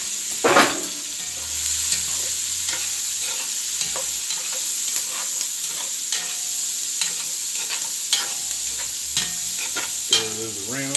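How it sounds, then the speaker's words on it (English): Beans and bacon frying in a pan, stirred around with a spatula under a steady loud sizzle, punctuated by scraping strokes and occasional clacks, close up with no voices. "Stir those around."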